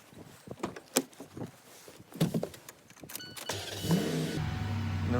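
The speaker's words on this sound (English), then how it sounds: "what we're going to do is run the engine for a little bit" A 2000 Ford F-150 engine turns over after a few clicks and rattles, then settles into a steady, fairly loud idle that runs to the end with no talking.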